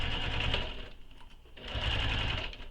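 A sewing machine back stitching a leather wallet, running in two close bursts of rapid mechanical stitching with a brief pause between them, no talk.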